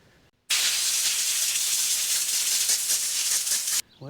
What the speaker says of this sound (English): Choke and carb cleaner.